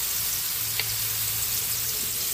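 Chicken pieces sizzle with onions in a hot pan for a Filipino chicken afritada, giving a steady, close, even hiss of frying with no talking.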